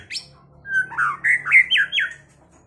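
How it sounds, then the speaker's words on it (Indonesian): A tame Medan-type white-rumped shama sings a bright, close phrase of rising and falling whistled notes, clear and loud with nothing else around it. "Murai batu Medan pastel yang jinak ya teman-teman."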